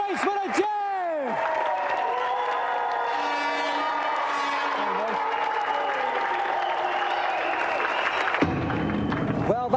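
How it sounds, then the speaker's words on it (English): A game show studio audience claps and cheers for the contestants, sustained and fairly loud, with electronic whooshing and musical effects layered over it and an abrupt cut near the end. "so a round of applause for our gallant loser, Conley, and tonight's winner, Jeff!"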